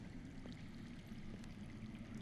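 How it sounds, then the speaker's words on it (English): Underground water flows in a cave setting in the Game of Thrones Telltale video game, a faint, steady rushing and trickling murmur with no voices. "I hear water. From underground."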